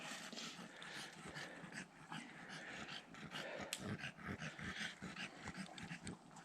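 Tired dogs in a vehicle whimper and whine softly, with panting and faint growls mixed in, a restless continuous murmur of small canine noises.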